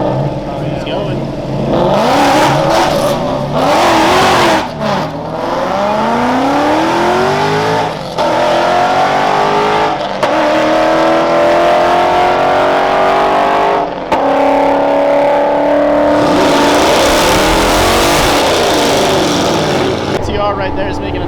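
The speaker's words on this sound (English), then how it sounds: "Now we're gonna see this Vortec Gen 2 get a pass in with the Tremec." A Vortec Gen 2 engine paired with a Tremec manual transmission makes a drag strip pass. It revs loudly, climbs through the gears with rising engine pitch between shifts, and is heard up close with some voices mixed in.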